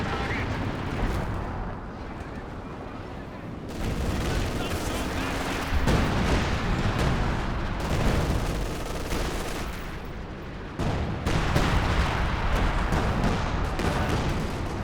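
Priest self-propelled artillery firing in Company of Heroes 2 amid continuous loud battle noise, dense shelling and gunfire with heavy booms, no distinct separate shots, under commentary talk.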